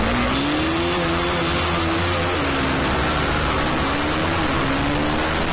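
In a drag race, a Duke 200 or MT-15 motorcycle engine revs hard and continuously near the limiter, a loud dense roar with a slowly wavering pitch and strong wind noise.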